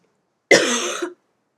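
A person with a lingering cough lets out one sharp, loud cough close to the microphone, a single burst of about half a second in otherwise silent surroundings.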